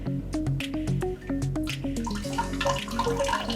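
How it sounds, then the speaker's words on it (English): Clean water squeezed from a sponge drips and trickles steadily into a container close by, a run of quick splashy drops with no voices. "if I stick this sponge into the clean water"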